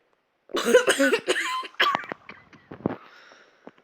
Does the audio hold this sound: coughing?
yes